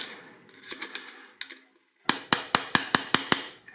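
A hammer taps a dipstick tube into place on a small block Chevy engine: a few light ticks, a short pause, then a run of seven crisp, evenly spaced metallic taps, close and clear.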